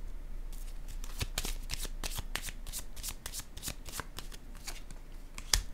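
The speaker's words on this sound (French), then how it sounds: "Attendez, je vais déposer une autre carte ici." Tarot cards are handled and shuffled, giving a quick series of crisp riffling snaps and light slaps, close and fairly quiet, with one sharper slap near the end.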